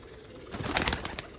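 Pigeons kept by a breeder flap and stir close by, a brief burst of wing flutter and soft movement rising then fading.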